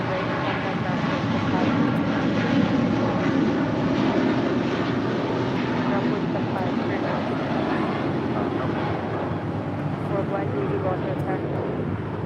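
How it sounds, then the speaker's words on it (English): Qatar Airways airliner rolling for takeoff on runway 25 right at LAX, a steady broad roar of jet engines holding loud and constant throughout, with radio chatter and voices talking over it. "We have Qatar Airways Flight 740 departing to Doha, now rolling on 25 right"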